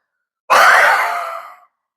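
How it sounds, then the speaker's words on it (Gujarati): A single deep, forceful exhale during a breathing exercise: a loud, breathy rush of air that starts abruptly and tapers off over about a second, close up, with no other sound around it. "આ રીતના શ્વાસ ભર્યા પછી આ રીતના બહાર કાઢવાનો છે."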